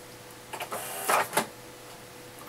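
A home printer running business cards gives a few quick mechanical whirs and clacks of paper feeding, close and fairly loud in a quiet room.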